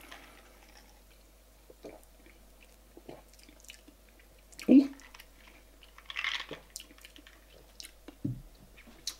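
A sour lime candy being chewed close to the mic, with soft irregular wet chewing and a few sharper bites in a quiet room.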